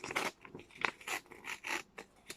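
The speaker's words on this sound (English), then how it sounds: "if you just pull it apart, can you see that it just rips along that fold?" A sheet of A4 paper is pulled apart along a fold, giving a series of short, crisp tearing and rustling bursts in an uneven rhythm, close and fairly quiet with no voices.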